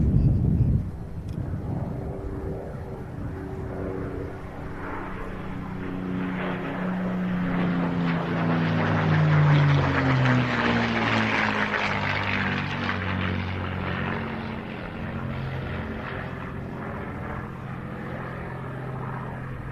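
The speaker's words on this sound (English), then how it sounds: "Mustang, is it?" A P-51 Mustang propeller aircraft passes during air show arrivals, its loud droning engine swelling to a peak midway and then fading, with no talk over it.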